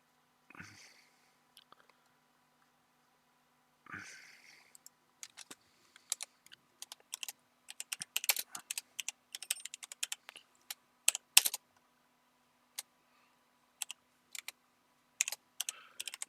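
Rapid clicking of computer keyboard keys, starting sparse and building into steady bursts of close, crisp keystrokes with short pauses, heard alone in a quiet room.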